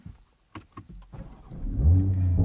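A 2023 Toyota GR Supra 3.0 with manual gearbox: a few faint clicks and knocks, then the engine starts up and settles into a loud, steady low rumble close by.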